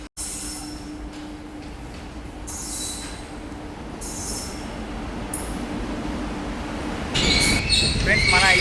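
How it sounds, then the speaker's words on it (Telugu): A goods train rolls through a station platform with a continuous rumble of wagons, hissing bursts and rising wheel squeal toward the end, loud and close. "సో ఇది వచ్చేసి గూడ్స్ ట్రైన్ అనమాట"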